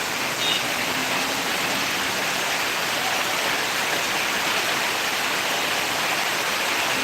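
Torrential rain pours down in a dense, even roar that stays loud and unbroken throughout, with no voices.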